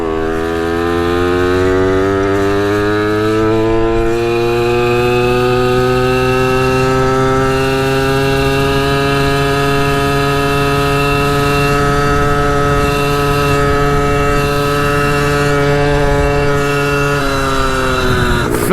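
A two-stroke pit bike engine screams at full throttle on a top speed run, a loud, steady high-pitched whine that holds nearly constant pitch throughout without pause.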